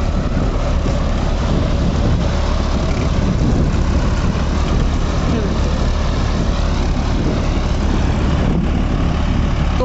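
A John Deere 5405 4WD tractor pulling a Lemken reversible plough gives a loud, constant low engine drone that continues without a break.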